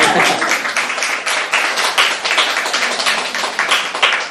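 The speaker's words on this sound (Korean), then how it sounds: "박수라도 칠까요?" Applause from a small group at a podcast book talk, a dense patter of hand claps that holds steady for a few seconds, fairly loud and close.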